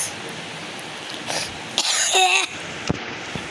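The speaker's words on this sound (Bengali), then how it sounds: "আমার কাশি যা হয়েছে না" A single short cough, close by, amid faint background noise and a brief muffled voice sound.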